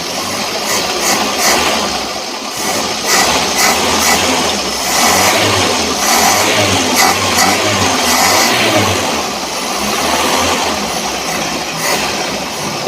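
A Suzuki Carry Extra's carburetor engine idles steadily close by, holding a constant droning rumble with gentle swells in revs and no talk over it.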